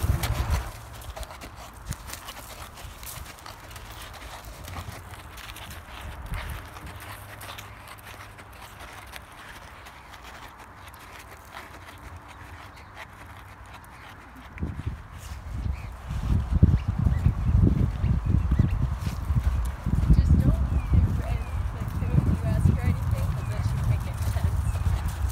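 Hooves of a horse clip-clop as it is ridden, soft at first and then louder and steadier from about halfway, with a rider's voices around them.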